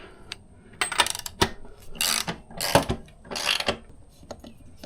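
Metallic clicks and ratcheting from a wrench snugging the rear axle nut on a sportbike wheel, short bursts of turning with brief pauses between, close and clear with no talk.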